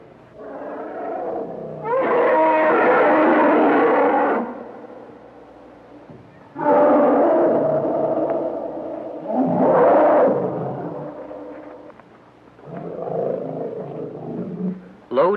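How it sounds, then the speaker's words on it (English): An Indian elephant lets out loud throat roars, several long, rough, powerful bursts with brief gaps between them, close and alone. "A loud throat roar is caused by extreme anger."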